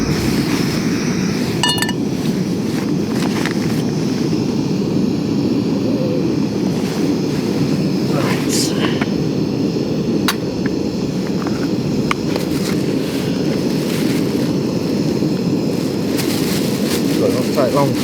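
Camping gas stove burner roars steadily outdoors by a river, a constant loud rushing hiss lasting throughout, with occasional light metallic clinks of cookware.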